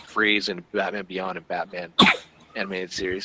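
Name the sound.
person sneezing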